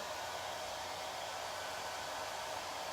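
A hair dryer on its cold setting blows in a steady, even whoosh of airflow, close to the microphone and fairly soft, with no talking over it.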